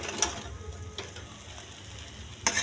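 Egg noodles being stirred and tossed in a pan with a spatula, soft clinks and scrapes at the start and end with a faint sizzle between, close and brief.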